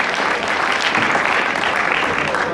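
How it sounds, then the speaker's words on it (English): Steady applause from a crowd at a reception for Nigeria's Super Eagles football team, dense continuous clapping at even loudness throughout. "Let's give a round of applause"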